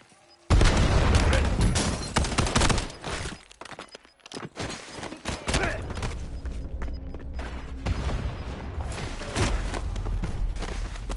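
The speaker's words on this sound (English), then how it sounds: "Inbound grenade." A grenade explodes in the video game Call of Duty Warzone: one sudden, loud, close blast, followed by a long stretch of rumbling gunfire and battle noise.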